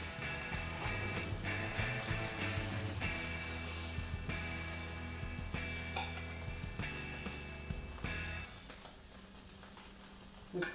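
A steak frying in a pan, nearly burning, gives a steady close sizzle throughout, with occasional clinks of cutlery and pans and a constant tonal hum underneath.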